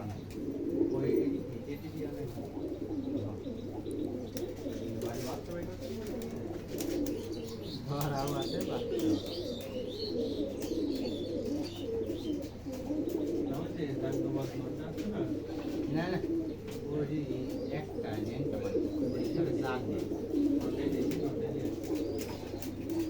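A flock of about 150 Giribaj pigeons coos continuously, layered and overlapping, over a low steady hum with voices talking faintly underneath.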